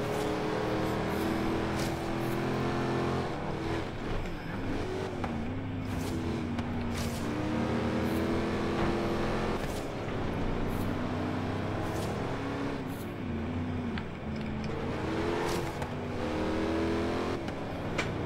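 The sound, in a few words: 4x4 car engine driving on sand tracks, Forza Horizon 3 video game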